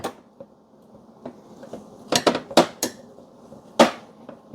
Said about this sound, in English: Now, I've got a chopstick. I'm gonna mix it up